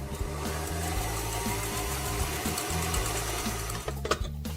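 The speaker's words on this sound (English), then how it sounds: "So we put it with our whisk onto the machine and we whisk it to semi-peaks" A stand mixer whisks vanilla cream to semi-peaks for a brownie topping, running as a steady close mechanical whir with a rapid rhythmic beat throughout, ending in a few small knocks.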